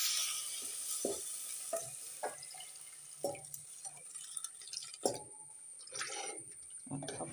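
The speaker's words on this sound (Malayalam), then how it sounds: "ഈ വെള്ളം ഒഴിക്കുക അതിലേക്ക്." Water hits a hot pan of coconut oil for Kerala fish curry and sets off a soft sizzle. Faint, irregular clinks and scrapes of stirring mark the quiet bubbling.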